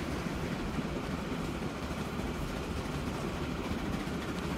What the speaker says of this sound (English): The Baldwin is a very, very cool train.